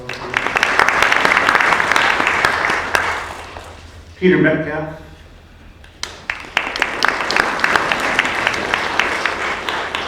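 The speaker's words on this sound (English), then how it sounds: "Give him a round of applause." Loud audience applause fills the room, breaks off briefly while someone speaks, then resumes strongly and continues to the end.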